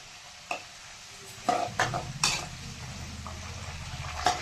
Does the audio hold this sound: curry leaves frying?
yes